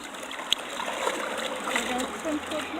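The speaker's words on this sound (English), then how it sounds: "JJ is learning how to swim" Young child JJ splashing in water while learning to swim: faint, scattered splashes and water movement with a sharp splat early on, under someone talking.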